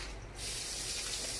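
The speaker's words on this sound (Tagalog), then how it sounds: "Mag-test tayo ng gripo." Water gushes from a faucet fed by a pressure tank in a bathroom, a steady hissing spray that swells slightly after a brief moment and continues without pause.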